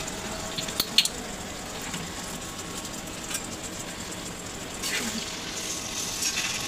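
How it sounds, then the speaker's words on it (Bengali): Bitter gourd (karela) frying in oil in a small home kitchen pan, a faint, steady sizzle with a few light clinks and scrapes of a utensil. "এই যে এখানে হচ্ছে আপু ভাজিতে তেল দিয়ে দিতেছে"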